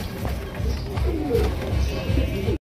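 A pair of Oriental pigeons offered for sale, giving low, rolling coos repeated close by over a steady background murmur.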